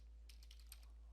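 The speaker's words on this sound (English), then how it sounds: "and then hit enter on your keyboard" Faint keystrokes on an ASUS ROG Strix Scar 17 laptop keyboard: a quick run of about half a dozen light clicks against a quiet background.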